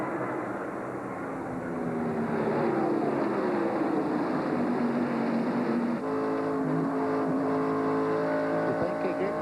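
NASCAR stock cars race at the 1997 Pennsylvania 500, engines roaring and shifting in pitch as the pack accelerates out of turn one and down the long back straightaway, loud and sustained.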